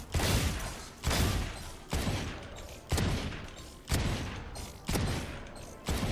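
Single gunshots ring out in the Valorant practice range, six or seven sharp cracks at roughly one-second intervals. Each one is loud and close and trails off in a short decaying tail, with no talking.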